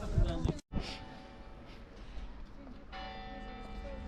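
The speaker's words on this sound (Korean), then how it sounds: "저 교회에서 지금 정이 울리고 있어" A church bell rings out in a European town, its steady, sustained tones ringing for several seconds over open outdoor ambience after a brief gap near the start.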